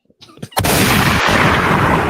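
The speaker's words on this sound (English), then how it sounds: "Shots fired!" A gunshot sound effect is triggered from a sound board, a loud, abrupt blast that rolls into a sustained booming rumble like artillery. It follows a brief murmur of voices.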